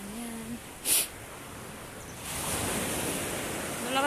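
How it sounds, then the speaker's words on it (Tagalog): Ocean surf and gusting wind at an outdoor seaside spot, a broad steady rush that swells louder partway through, with brief voice sounds and a short burst of microphone buffeting. "Malakas ng hangin, oh."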